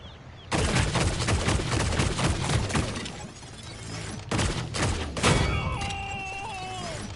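Video game gunfire as the champion Lex shoots at a tank: rapid bursts of loud shots with crunching impacts, a pause, then more firing followed by ringing metallic tones as the tank is destroyed.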